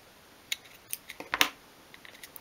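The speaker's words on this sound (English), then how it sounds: "you can trim off that excess bit there" Small scissors trimming excess material from a 1/12th scale miniature log basket, giving a few quiet, close snips spread across a brief, otherwise hushed moment.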